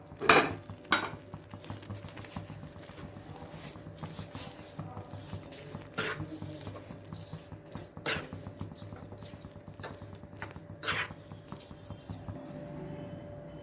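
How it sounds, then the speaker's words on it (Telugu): Sugar being stirred into half a litre of milk in a pan for bread halwa, a spoon scraping and clinking against the metal pan in irregular knocks over a low steady hum, no talk. "హాఫ్ లీటర్ పాలు తీసుకున్న పావు కేజీ షుగర్ వేసి కలుపుకోవాలి"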